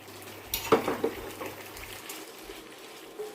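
Pineapple chicken with vegetables is mixed in a pan, with a few soft clinks and scrapes of a utensil early on over a low background hum, and the sound stays quiet throughout.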